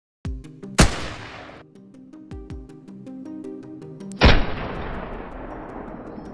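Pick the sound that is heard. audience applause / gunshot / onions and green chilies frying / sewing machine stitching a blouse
gunshot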